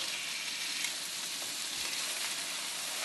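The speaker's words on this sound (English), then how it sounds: "I'm going to use my tongs to turn it" Pork tenderloin frying in a pan and turned with tongs, a steady, fairly quiet hiss of sizzling fat with no distinct clatter, even throughout and without voices.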